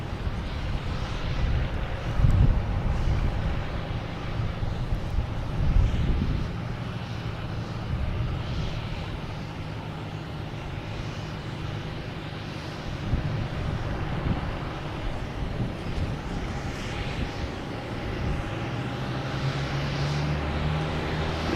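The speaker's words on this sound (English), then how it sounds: "There we have American Airlines coming from LAX and A321." American Airlines Airbus A321 arriving from LAX at Boston Logan Airport, a steady broad engine roar with wind buffeting the microphone, fairly loud and constant.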